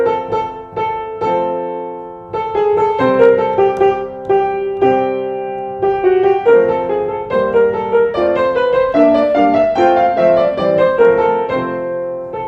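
First theme of the first movement of Beethoven's "Spring" Sonata for violin and piano, played alone as a flowing melody over steady chords, loud and continuous with many rapid note changes.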